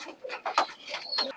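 Pakistani Shaki Teddy pigeons, a paired couple with young, give soft repeated coos in a short close burst, with quiet rustling around them.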